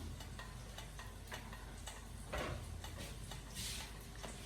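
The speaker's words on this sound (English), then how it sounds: "You can hear frying sounds in the back. I'm frying potato chips," Homemade potato chips frying in a saucepan during gyro and pita preparation, giving a steady crackling sizzle with scattered ticking pops that continues throughout at a moderate level, with no talking.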